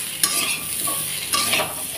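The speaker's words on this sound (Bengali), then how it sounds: "সেটাতেই কচুটাকে একটু ভেজে নিচ্ছি।" Taro (maan kochu) frying in oil already used for frying chilies and fish, a steady close sizzle with a couple of sharper stirring scrapes, no one speaking.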